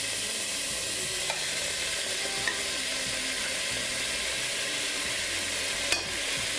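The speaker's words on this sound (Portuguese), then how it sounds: "estou a fazer um refogado levezinho, azeite de cebola" Onion sizzling and frying in olive oil in a pan for a light sauté before lamprey goes in, a steady close hiss with a few soft stirring clicks.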